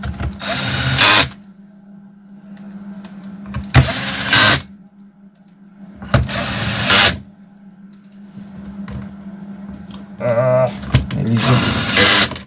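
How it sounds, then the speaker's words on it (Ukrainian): Cordless screwdriver driving four small screws into a Chinese chainsaw during repair: four separate loud whirring bursts of about a second each, spaced by pauses with a steady low hum underneath. "4 гвинтики. Закручуємо."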